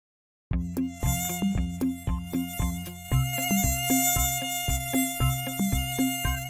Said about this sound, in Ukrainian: А це комар